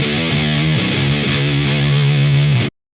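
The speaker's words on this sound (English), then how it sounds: "then I'm pretty sure you love fuzz pedals, fuzz distortion" An electric guitar played through a fuzz distortion pedal in a metal tone sounds one thick, buzzing, saturated chord, loud and close. It holds steadily for nearly three seconds, then cuts off abruptly into silence.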